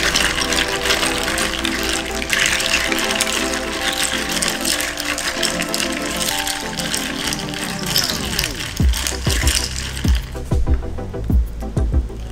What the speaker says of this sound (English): I think I need to put some water.